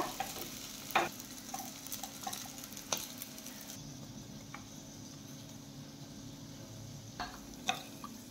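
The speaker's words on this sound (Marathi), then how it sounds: "तर इथे दोन्ही बाजूने छान इथे आपले कटलेट फ्राय झालेले आहेत।" Potato and poha cutlets shallow-fry in a pan of oil, giving a soft, low sizzle with occasional sharp crackles and spits, fairly quiet and close, with no one talking.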